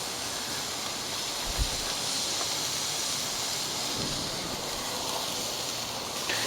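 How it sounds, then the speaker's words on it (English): Torta bread rolls toast on a hot griddle, giving a faint, steady sizzling hiss with a couple of soft low thumps. "Just want to get a nice little toast on these guys."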